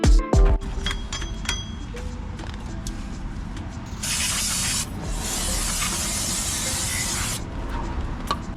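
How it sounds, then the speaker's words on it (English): Aerosol brake cleaner sprayed onto the front brake parts of a 2010 Toyota Camry, a loud close hissing burst of about three seconds after a few metal clinks, then a quieter continuing spray. "let's do a little brake cleaner here before we put the rotor on"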